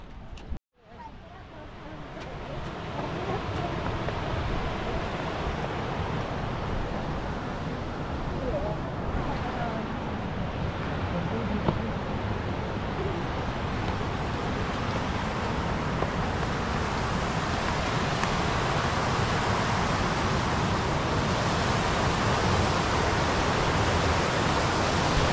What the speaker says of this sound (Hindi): So friends, this is the Pikra Falls.